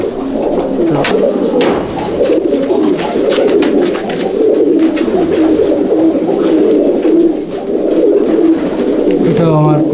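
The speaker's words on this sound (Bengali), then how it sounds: "আমার লটের, এটা ধাড়ি পায়রা" Pigeons of Coimbatore and Chennai breeds in a racer pigeon loft keep up a steady, layered cooing at close range, with soft wing flutters and occasional chirps blending in, while a person talks faintly in the background.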